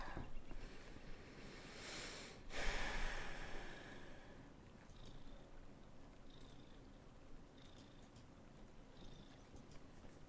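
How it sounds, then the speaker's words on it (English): A cat purrs close to the microphone in a low, steady rumble. A brief rustling burst comes early on, and faint short chirps repeat at regular intervals in the background. "What are you doing, kitty?"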